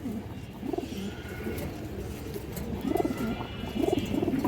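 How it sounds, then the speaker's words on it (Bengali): A domestic pigeon coos close by in a farm loft, several low rolling, throaty calls repeating in bursts over a soft background hum, with no talking. "অসাধারণ একটা কবুতর"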